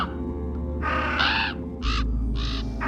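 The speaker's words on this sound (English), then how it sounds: "The crows circled overhead, their caws mixing with the phantom hoofbeats and endless whispers." Several crows caw overhead in short harsh bursts, three or four distinct calls spaced through the moment, fairly close and loud over a low steady hum.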